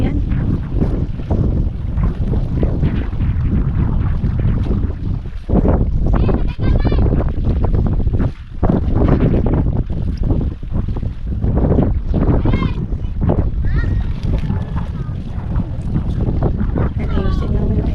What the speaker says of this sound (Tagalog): Ang lakas ng hangin ngayon